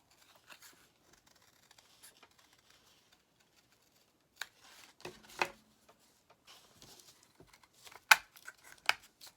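Scissors trimming a salt box top, quiet scattered snips and crinkles of the carton, faint and close with short bursts of cutting near the end.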